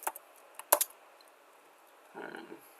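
Keys tapped on a computer keyboard, a few sparse clicks with a sharp double press near the middle, then a short patter of quieter typing.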